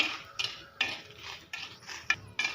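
Ingredients for Mangalorean-style prawn sukka dry-roast in a pan while a utensil stirs them, making about six distinct scraping strokes in an even rhythm, close and moderately loud.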